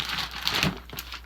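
Plastic wrapping crinkles on a boxed bridle during unboxing, a short, close rustle without talk.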